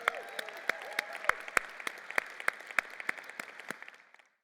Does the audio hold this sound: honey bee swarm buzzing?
no